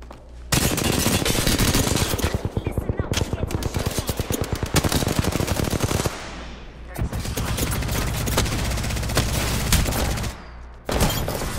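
Rapid automatic gunfire in the battle royale game Apex Legends, long loud bursts of close shots with brief pauses between volleys, as a player talks over the shooting.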